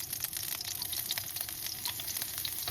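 Garlic sizzling in hot oil in a pan, a steady crackling fry that stays loud and even throughout, with no voices over it.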